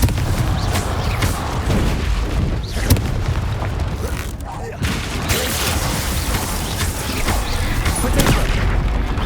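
Repeated blasting-spell explosions in the Hogwarts Legacy video game, a rapid run of loud booms and crackling bursts with a player's voice calling out between them.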